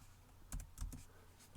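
Quick keystrokes on a computer keyboard, a few faint clicks in a short irregular burst, close and quiet in a podcast room with no talk.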